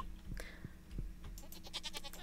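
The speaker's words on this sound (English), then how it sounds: "Baby goats!" Baby goats bleating in the Stardew Valley farming game, several short bleats in quick succession with brighter calls near the end, over a steady game background hum.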